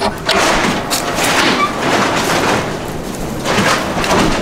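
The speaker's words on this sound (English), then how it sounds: "That noise you're hearing is a tarp blowing." Loud, broadband rustling and whooshing in uneven gusts as a tarp flaps and snaps in strong wind, with no voices.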